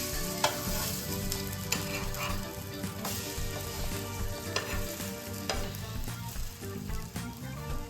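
Egg-dipped bread toast frying in a pan, a steady close sizzle with stirring and scraping clatter as it is flipped, a few sharp utensil clicks standing out above the hiss.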